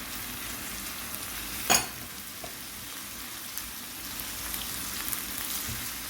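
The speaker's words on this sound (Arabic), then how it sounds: "هاي عندي ملعقة دهن، راح اضيف البصل، راح اضيف اللحم" Onion and meat fry in a spoonful of fat in a pan, giving a steady close sizzle throughout with one brief sharp crackle early on.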